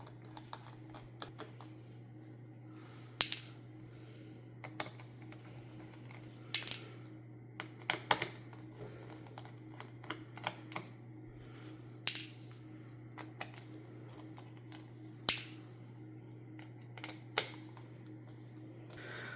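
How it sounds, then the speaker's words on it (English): Small screws being backed out of the underside of an ASUS Zephyrus GU502GW gaming laptop during a battery replacement, heard as scattered light clicks and ticks over a steady low hum, close and quiet with no talking. "6 screws. Let's go ahead and take them out."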